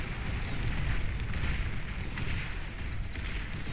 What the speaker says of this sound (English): The Janus rockets just doing work.